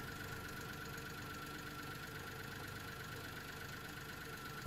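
A Mitsubishi Minicab with a failing fuel pump and lean condition idles steadily at moderate level, a continuous even drone with a faint knocking texture and no talk.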